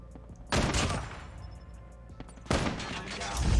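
Annihilator gun firing in Call of Duty Mobile: two loud, booming shots roughly two seconds apart, each with a heavy crack and ringing tail, heard up close with no talking.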